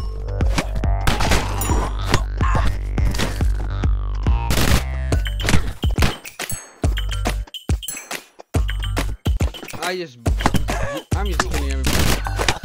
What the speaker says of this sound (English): Machine gun. I'm about to go brr to everybody.